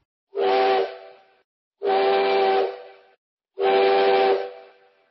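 Three long steam train whistle blasts, each about a second with a breathy hiss and clear chord tones, separated by short silences, loud and close with no talk.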